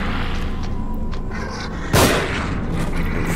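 A single loud gunshot bursts out of a tense in-game ambience in the survival horror game The Evil Within, sharp and close, rising abruptly above a constant low background drone.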